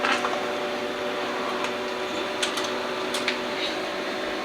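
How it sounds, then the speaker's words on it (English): A T-shirt transfer printer running steadily as it pulls a sheet of transfer paper in, a continuous mechanical whir with a few brief clicks and ticks near the end, close and fairly loud with no speech. "It says it's printing now, and here it goes getting sucked in."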